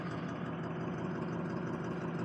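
A Ford 6.0 Powerstroke diesel idles with a steady, even chortle from the exhaust, a continuous low rumble recorded close and alone, after a misfiring injector was treated with an additive.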